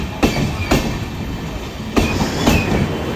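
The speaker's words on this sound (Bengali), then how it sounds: "দেখতে পাচ্ছ আস্তে আস্তে রানাঘাট জংশন স্কিপ করে যাচ্ছে সাইরাং এক্সপ্রেস।" The Sairang Express rolls slowly through Ranaghat Junction with a steady rumbling roar. Paired wheel clacks strike over rail joints at an unhurried pace, heard close and loud with no voices.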